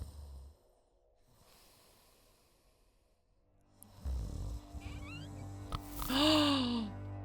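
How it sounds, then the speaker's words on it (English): A person snores in a quiet bedroom at night: faint, slow breaths at first, then louder rasping, snorting inhalations near the end. "Someone is snoring."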